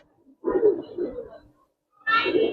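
Giribaz and coloured pigeons coo close by in two separate bursts, the first longer and rolling, the second starting after a short silence, with no people talking.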